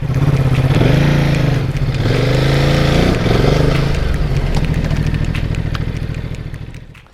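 A Ducati Multistrada motorcycle pulls away, its engine loud and close as the revs climb and drop through a couple of gear changes, then trailing off at the end with no talking.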